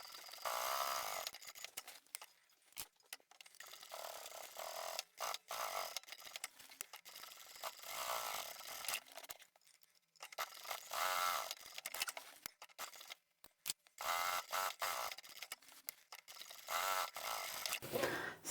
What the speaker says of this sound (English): I'll just sew another channel right along here, about 1 inch away from the outside edge